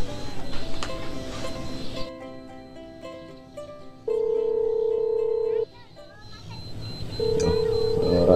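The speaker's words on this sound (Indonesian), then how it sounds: "coba telepone maneh" Telephone call ringing out unanswered, a steady electronic ring tone in repeated bursts with a dial-type tone beneath, fairly close and loud over a quiet background.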